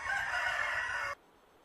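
A rooster crows once, loud and close, a single sustained call lasting about a second before cutting off abruptly to near silence.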